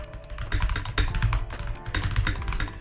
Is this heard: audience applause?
no